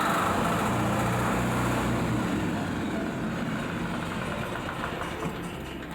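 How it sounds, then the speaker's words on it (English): A small, simple diesel engine aboard the steamer MV Swift runs steadily up close, a loud continuous mid-pitched drone with low throbbing that stays constant throughout. "it's just a simple little diesel engine"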